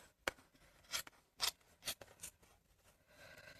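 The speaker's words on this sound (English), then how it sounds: "This hasn't got any stitching on it, so I'm just going to cut that." Scissors make about six quiet, separate snips as they cut pieces of fabric off a sequin wedding bouquet cover, with short pauses between cuts and no talking.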